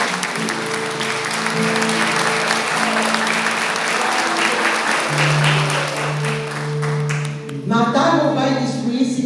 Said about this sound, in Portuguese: Agora vamos aplaudir.